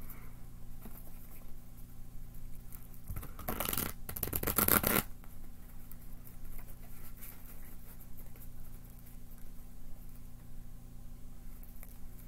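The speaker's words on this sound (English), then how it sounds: "Quick shuffle." Tarot cards are shuffled quickly in one short, loud burst of brisk riffling lasting about two seconds, with quiet room tone before and after.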